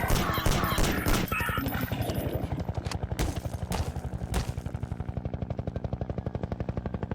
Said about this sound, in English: there is nothing that causes this explosion. Just, it's rigged onto the map logic.